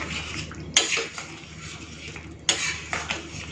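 A spoon stirring potato and pointed gourd curry in a pan after garam masala goes in: two sharp metallic scrapes and clinks stand out over a low, continuous background.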